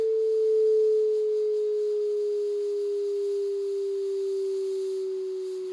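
A pure sine test tone played to vibrate a sheet of foil holds steady and continuous for several seconds, drifting slightly lower in pitch and easing in loudness, with no voices.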